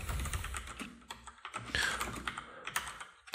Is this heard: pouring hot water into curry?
no